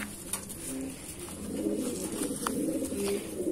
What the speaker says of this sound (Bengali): এবার দেখাবো এই পায়রাটা, নর পায়রাটাকে দেখাবো।